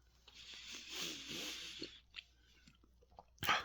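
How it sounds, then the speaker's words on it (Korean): Someone chews food close up but quietly, with soft wet smacks and clicks and a louder crunch near the end. "이래 씹었던 거야"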